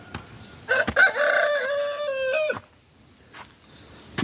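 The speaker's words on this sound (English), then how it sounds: "There is a rooster." A village rooster crows once, loud and close, a drawn-out cock-a-doodle-doo lasting about two seconds, followed by a few faint clucks and knocks in a quiet farmyard.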